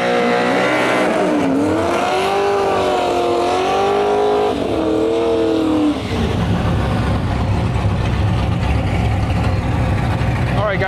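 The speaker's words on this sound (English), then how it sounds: "Guys, we got this Nova pulling up." A Chevrolet Nova drag race car, naturally aspirated, pulls up at a drag racing event with a loud, steady engine drone whose pitch wavers before it drops into a rougher, deeper rumble, close by with no talking.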